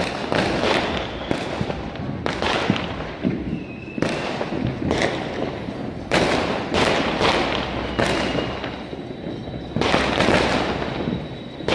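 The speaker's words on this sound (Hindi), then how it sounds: "बट देखो गाइस कितना पटाखे फूट रहा है, सब स्काई शॉट है" Sky shot fireworks burst repeatedly over Delhi during Diwali, a dense rapid series of loud cracking pops and thumps, some near and some distant, with no talk.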